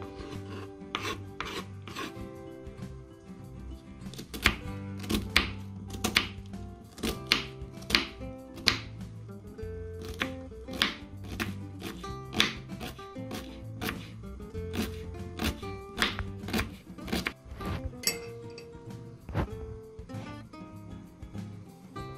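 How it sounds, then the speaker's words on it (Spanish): Onion chopped with a knife on a cutting board for shrimp mango ceviche, a brisk run of close, sharp knife taps at an uneven rhythm, with no talking. "Ya he terminado de picar la cebolla"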